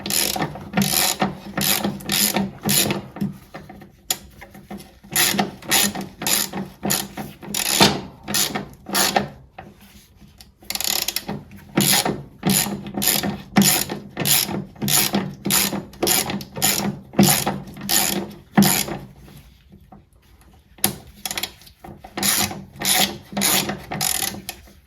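Ratchet wrench clicking in rapid bursts while loosening bolts on a Motostandard 1010 battery tray, loud and close, with short pauses between each series of clicks.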